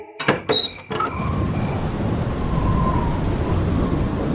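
A heavy rainstorm with thunder and lightning: a few sharp cracking thunder claps open, then a dense, steady roar of pouring rain continues without any voices.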